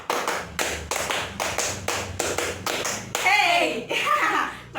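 Students in a classroom clap in a series of sharp, rhythmic group claps, close and loud, followed by children's voices and chatter.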